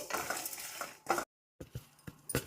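Peppercorns, cinnamon and coriander seeds dry roasting in a pan give scraping, stirring and clinking of a utensil against metal in uneven bursts, broken by a short silence before a few sharp taps, with no voice.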